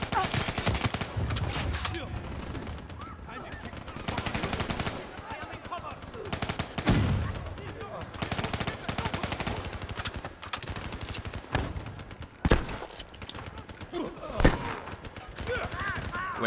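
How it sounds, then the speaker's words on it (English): Automatic gunfire in Call of Duty Black Ops 3 sounds as rapid, punchy bursts with short pauses between them. The shots are loud and close over game effects, and a player talks throughout. "this gun feels like you have to burst it a little bit more, just because um, the accuracy is recoil is pretty bad"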